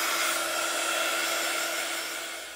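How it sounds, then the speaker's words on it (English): A craft heat tool blows steadily to dry pigment ink on a papercraft project, a close, even whirring hiss that tapers slightly as it ends. "now I'm just going to quickly grab my heat tool again"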